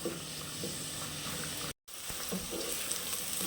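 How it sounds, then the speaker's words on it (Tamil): Vegetables and chillies sauté for a vegetable pulao, giving a steady close sizzle and hiss of frying with faint stirring scrapes and a brief cut partway through. "இப்போ இதெல்லாம் சேர்த்து நல்லா வதக்கிக்கலாம்."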